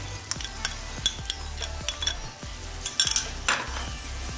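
Onions, ginger and garlic fry in a karahi, with a steady sizzle under repeated metal clinks and scrapes from a spoon stirring against the pan.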